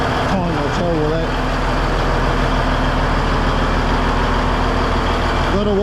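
A Peterbilt truck engine with exhaust leaks idles in a loud, steady, low diesel rumble that holds even throughout, with a brief voice-like warble near the start.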